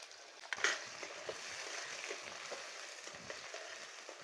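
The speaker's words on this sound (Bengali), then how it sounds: "সেই পেঁয়াজগুলো প্রথমে ভেজে নেব।" Chopped medium onions fry in oil with whole cumin and a chili, a quiet, steady sizzle with soft scraping stirs and a brief clatter near the start.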